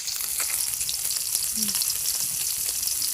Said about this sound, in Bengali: পুঁটি মাছের চিরাই মাছ এটা আগে ভাজি করতেছে